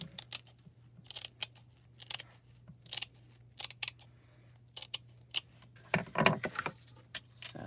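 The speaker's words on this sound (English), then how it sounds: "I'm going to cut all the fabric first" Scissors snipping through fabric in short, crisp cuts, a series of separate close-up snips spread irregularly over the stretch with a steady low hum beneath.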